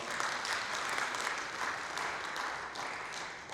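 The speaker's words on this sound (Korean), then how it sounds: "큰 박수 부탁합니다." Audience applause at an environmental policy forum, steady clapping from a moderate crowd heard fairly softly for a few seconds before a presenter begins.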